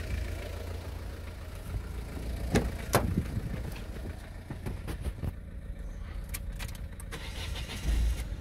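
A Citroën C4 1.6 HDi diesel engine cranking and starting, with faint clicks and short bursts before it catches, heard at low level alone.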